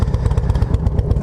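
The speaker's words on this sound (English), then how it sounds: "when I come to a stop and it's idling, it makes that weird sound" Harley-Davidson Road King motorcycle idling close by with a loud, lumpy low-pitched throb and an odd hissing, leak-like sound riding on top of the engine pulses.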